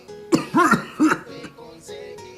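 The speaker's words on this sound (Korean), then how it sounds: "기운이 하나도 없는 목소리로 기침 소리까지 예사롭지 않게 들렸어요" A few raspy coughs and throat clearing in quick succession, close and fairly loud, trailing into quieter breathy noises.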